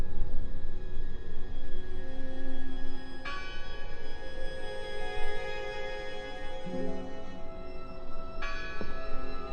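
Church bell tolling in the video game Draugen, struck twice with long ringing tones layered over a steady ambient background, no voices.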